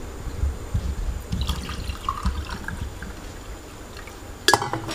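A glass of water poured into a cooking pot on the stove: a faint, steady splashing and trickle that runs for several seconds, then a sharper clatter near the end.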